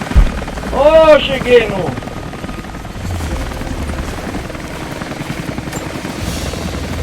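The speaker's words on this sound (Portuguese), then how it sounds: "Opa, o helicóptero." A helicopter thrums loudly in Rise of the Tomb Raider, its rotor roar filling the scene with a sweeping whine early on, while someone talks over it.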